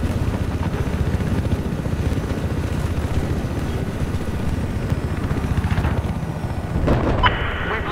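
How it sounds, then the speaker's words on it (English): An enemy helicopter in Battlefield 4 drones with a loud, rapid rotor chop that holds steady throughout, with scattered gunfire and booms from the multiplayer match mixed in. "That appears to be an enemy helicopter near your location."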